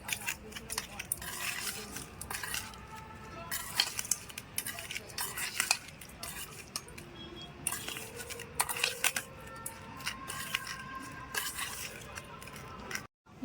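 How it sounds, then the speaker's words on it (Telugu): A spoon stirring paneer marinade with squeezed lemon juice in a bowl, made for paneer dum biryani, producing irregular scraping and clinking knocks against the bowl, close and moderately loud. "ఇప్పుడు ఇదంతా బాగా మిక్స్ చేసేసుకోవాలి మనం"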